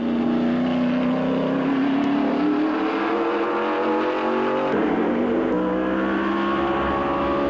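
A Nissan car with a 1.6-litre engine drives steadily past, its engine note climbing gradually in pitch as it accelerates through a gear or two, loud and close with no voices.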